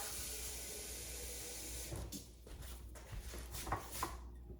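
Water poured into a canning jar while putting up butternut squash, a soft running trickle that breaks into gurgles and splashes before fading.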